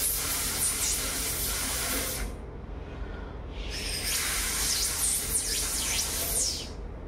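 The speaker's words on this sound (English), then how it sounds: "And now watch this spray." Water spraying in a simple classroom science experiment, a loud close hiss that runs for about two seconds, drops away briefly, then returns strongly for several more seconds.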